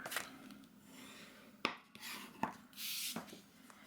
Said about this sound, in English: fold this along the score line and just burnish the score with my bone folder